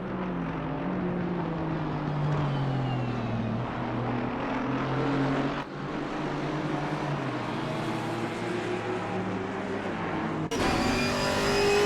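Race car engine on a hot lap at Zandvoort during rookie qualifying, loud and close, revving hard and climbing in pitch through the gears, with a sharp shift break near the end and no talk.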